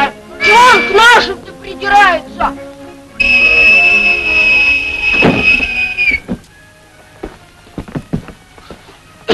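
A referee's whistle at a girls' game played on ice gives a long, loud, steady blast lasting about three seconds, coming between stretches of voices talking.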